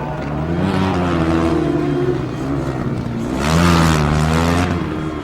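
A Formula Student race car on a flying lap at an endurance event, its engine droning and revving loudly, pitch rising and dipping as it accelerates and shifts, with no voices heard.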